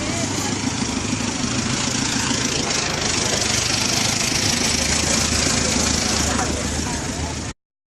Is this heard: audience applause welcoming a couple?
no